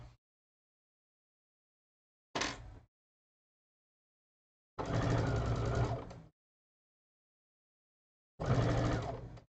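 A sewing machine stitches a seam in three separate bursts, a brief run followed by two longer ones of about one and a half seconds, with near-total silence between them.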